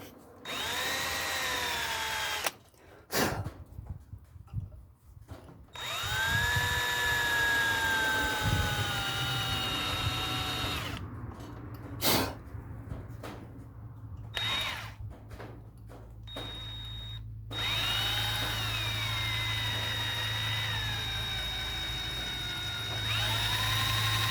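A power drill bores into an XD2 diesel engine water pump to fit an air bleeder pipe, running in long whining stretches that rise and fall in pitch, broken by short pauses, loud and close.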